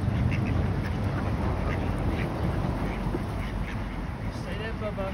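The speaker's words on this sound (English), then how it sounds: "Let's get a picture of these birds." Ducks quack repeatedly outdoors, a scattered series of calls at moderate distance under steady background noise, with a person talking to a dog nearby.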